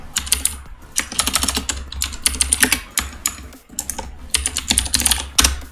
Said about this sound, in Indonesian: Pilih ini, ketik isian surat pernyataan